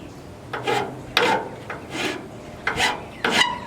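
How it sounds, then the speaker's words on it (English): A hand file rasps along the edge of a 1964 Pontiac Le Mans hood, five short scraping strokes in an uneven rhythm, close and fairly loud with no talk. "I'm gonna take a file and clean that off a little bit"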